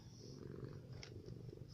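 House cat purring close by, a soft, steady, low rumble throughout a short quiet stretch.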